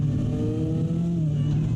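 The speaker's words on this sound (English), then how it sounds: "We can see cars flying by." Race cars including a Corvette and a BMW M6 at Zandvoort circuit, a steady engine drone with rising and falling pitch as cars pass in the distance.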